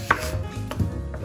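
Onions chopped with a knife on a cutting board, a few distinct close chops spaced unevenly over a quiet background, with no talking.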